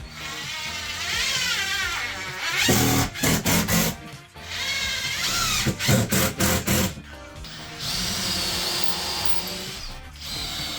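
Power drill boring screw holes in cedar while building a sauna under a staircase, with several short bursts of drilling over steady background music.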